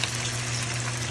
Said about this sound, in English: Oh, look at that baby frying, guys.